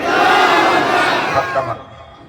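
A large crowd at an outdoor Quran gathering roars back a chant in answer to a religious slogan, a loud unified shout that holds for a moment and then fades.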